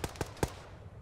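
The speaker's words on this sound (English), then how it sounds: "We're getting shot from somewhere!" Gunfire in the Arma 3 military shooter: three quick, punchy shots in a tight burst, close and loud, each with a brief booming tail, then a fading echo.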